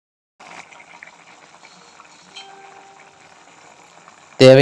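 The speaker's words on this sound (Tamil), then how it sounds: "நல்லா கொதித்து வரட்டும்." Water for manathakkali keerai soup bubbles and simmers in a pot, a steady soft crackle of boiling, ending in a sudden loud burst of sound.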